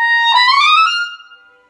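Clarinet playing its highest notes, a bright held tone with a quick upward shift, solo and close before trailing off.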